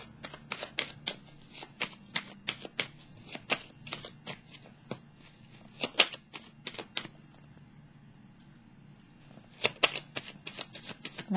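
Béline horoscope oracle cards being shuffled and drawn by hand, a run of crisp, close snapping flicks in quick irregular bursts with short pauses between, in an otherwise quiet room.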